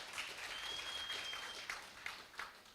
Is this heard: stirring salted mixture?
no